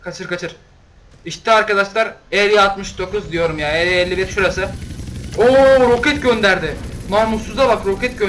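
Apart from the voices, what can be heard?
No everyday noises stand out.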